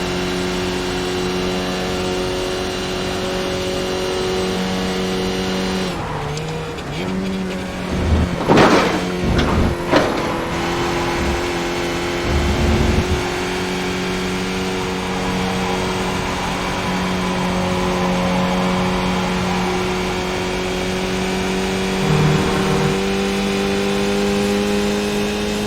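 A race car engine drones steadily at high revs on Watkins Glen in a racing video game, a loud, continuous tone with brief dips and surges, with no talk.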